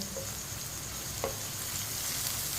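Chopped ridge gourd (tori) fries steadily in a pan with a soft, continuous sizzle, with a faint clink of a stirring spoon partway through.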